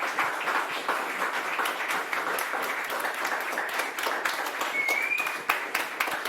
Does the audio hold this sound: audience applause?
yes